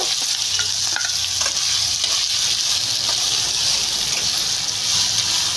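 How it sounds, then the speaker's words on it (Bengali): Chopped potato and green chili fry in hot oil in a wok, a loud, steady sizzle close by with faint stirring scrapes and no talking. "এই সবগুলো এখন তেল দিয়ে ভালো করে ফ্রাই করে নেব"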